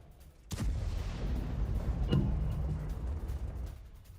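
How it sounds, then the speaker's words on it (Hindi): A sudden sharp blast as a missile hits a drone in the sky, followed by a rumbling boom that lingers, with a second crack midway through, heard from some distance. "ड्रोन पर अटैक के बाद जोरदार धमाका हुआ है।"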